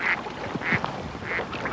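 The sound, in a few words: glade ducks quacking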